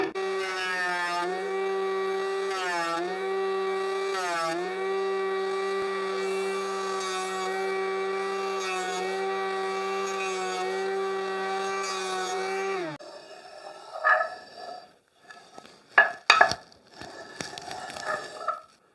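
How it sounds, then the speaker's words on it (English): An electric planer test-run on old timber gives a steady, tonal motor whine for about thirteen seconds, then winds down into scattered clunks and knocks. "Right then, let's test the planer."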